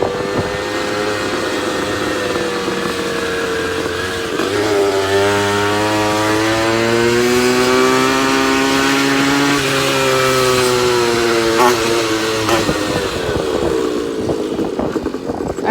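A Goped Phat Boy scooter with a swapped-in small engine runs loud and close, its buzzing two-stroke whine rising in pitch as it revs up, holding a high steady drone, then dropping back toward idle.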